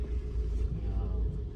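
A low, steady rumble of a passing truck on the road fills the clip, a close, continuous motor drone without distinct peaks.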